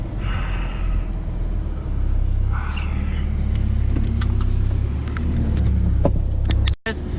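A 2014 Audi A6 with an APR tune idles and creeps into a parking spot, its low, steady engine rumble close and continuous, with a brief soft rev midway before the sound cuts off abruptly near the end.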